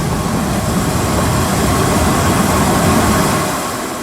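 A train running downhill past the Tulloch distance signal after Loch Treat, a steady loud rumble and rolling roar that holds close throughout, easing slightly toward the end.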